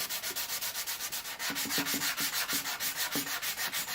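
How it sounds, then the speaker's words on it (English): Hand sanding wood putty with sandpaper: quiet, close, rhythmic back-and-forth rasping strokes in a steady fast pace, with no talking. "Again, light pressure, let the sandpaper do the work."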